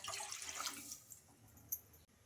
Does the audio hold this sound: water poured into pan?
yes